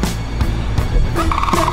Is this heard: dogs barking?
no